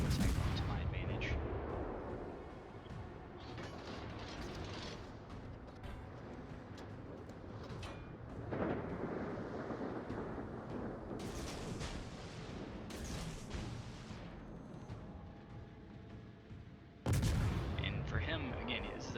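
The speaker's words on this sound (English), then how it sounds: "You can see he just unloaded his whole salvo on me, and missed." A battleship in World of Warships fires a main-gun salvo as several distant booms and bursts, followed by rumbling impacts. Game music and effects play underneath, and someone talks over it.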